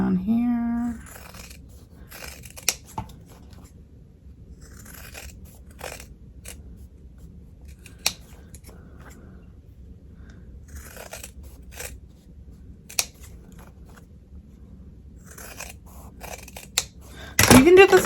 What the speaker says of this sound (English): I'm just going to use regular scissors on this one